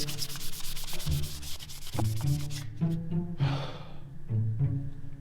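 Rough sanding inside a vehicle body, worked into small cracks and corners, heard as rhythmic scraping strokes close by, mixed with the worker's heavy breathing and sighs.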